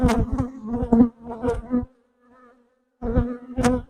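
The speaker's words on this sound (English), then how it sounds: "There's a nice frame of young bees." Young, just-hatched honey bees buzz on a hive frame, a close, loud drone broken into bursts with a short near-silent gap before the buzzing returns.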